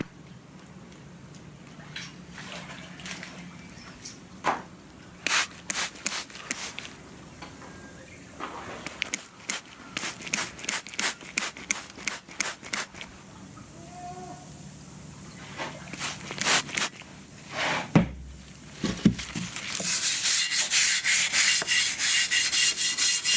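A bristle brush scrubbing acid wash over a Sillette Sonic boat drive: clusters of short, rasping strokes, close and moderately loud, broken by pauses, with a longer spray-like hiss near the end.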